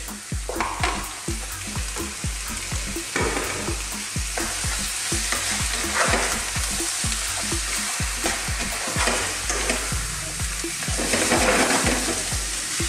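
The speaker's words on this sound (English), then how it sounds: "Let's give this a good mix." Finely chopped white mushrooms and spinach fry loudly in a pan, with continuous sizzling and repeated close scraping stir strokes throughout.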